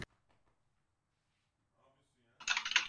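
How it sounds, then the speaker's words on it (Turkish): Near silence, then a sudden burst of rapid computer keyboard typing close by during the last half second or so. "Klavye sesi geliyor."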